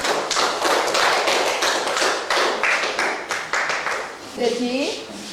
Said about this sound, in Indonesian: Beri tepuk tangan untuk kelompok singa.